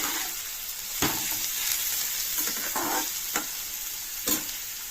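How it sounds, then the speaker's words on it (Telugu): Egg deep frying in a pan for a tamarind-leaf egg dish, a steady close sizzle with several sharp scraping stirs breaking through, no voices. "బాగా ఫ్రై అవ్వాలి డీప్ ఫ్రై"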